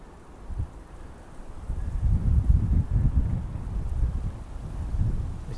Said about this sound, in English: This wind's making it very awkward.